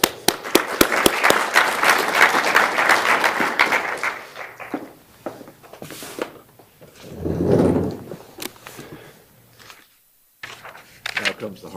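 Audience applause welcoming a panel at a media perspectives plenary session, dense clapping for about four seconds that fades into scattered claps and room noise.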